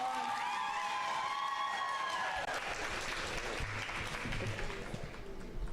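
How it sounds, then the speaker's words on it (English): An audience at a high school poetry slam applauds steadily, with whoops and cheers over the clapping early on, a dense continuous patter that carries on to the end at moderate loudness. "Please give her a round of applause."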